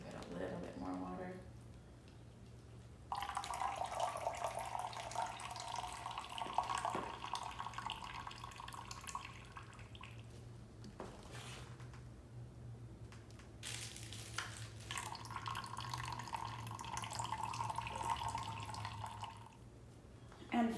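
Water poured from a bottle onto a soil erosion model, a trickling, splashing flow in two long pours with a quiet pause between, while a person talks.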